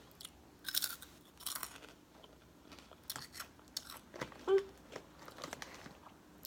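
Hot Cheetos crunched and chewed close to the mouth, several sharp crunchy bites followed by softer chewing over a quiet room, with no talking.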